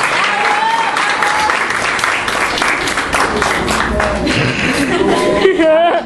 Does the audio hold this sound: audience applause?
yes